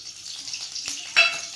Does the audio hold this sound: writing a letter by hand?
no